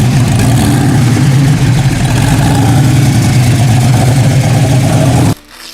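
A 1973 De Tomaso Pantera with a mid-mounted Ford 351 Cleveland 5.8 V8 rumbles loud and close, a steady deep engine drone that holds for about five seconds before cutting off abruptly.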